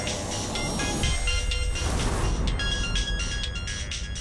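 A phone rings with an incoming call in a Hindi TV serial scene, a steady electronic ringtone melody playing clearly throughout with no talking over it.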